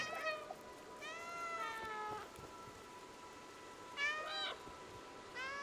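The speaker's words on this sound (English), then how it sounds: "We're the noisiest pack of cats ever." A pack of cats in the video game Stray meows in turn, a few clear mews early and a couple more later, set against a faint steady background tone with no talking.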